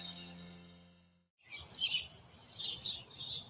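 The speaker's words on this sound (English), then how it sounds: "The surest sign of spring is the sound of chirping birds" Birds chirping in spring, with quick repeated high tweets coming in bursts, moderately near and fairly clear, after a fading tone at the start. No one speaks.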